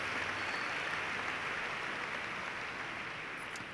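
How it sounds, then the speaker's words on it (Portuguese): A church congregation claps steadily, a dense wash of applause that holds for a few seconds and begins to fade slightly at the end. "Pode dar uma salva de palmas para Jesus."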